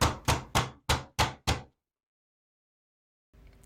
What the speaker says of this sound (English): I do like a rubber mallet to help me persuade it